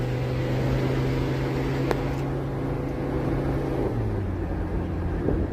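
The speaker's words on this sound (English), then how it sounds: "This is full throttle." A classic Mercedes climbs Pikes Peak at full throttle. Its engine drones steadily from inside the cabin in a low, sustained hum, and the pitch shifts slightly as it labours up the mountain road.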